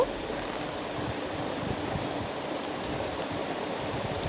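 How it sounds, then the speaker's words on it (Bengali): Water is poured into fried spices in a pan while making a light fish curry, producing a steady rushing hiss that holds at an even level throughout. "মশলা ফ্রাই করা হয়ে গেছে। এখন এখানে জল দিয়ে দেব।"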